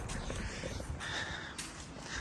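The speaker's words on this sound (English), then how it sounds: "Oh, no, they're crows." Crows caw near a garden pond outdoors, a few harsh calls standing out over steady background noise and wind-like rumble.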